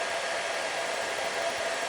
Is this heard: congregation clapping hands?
no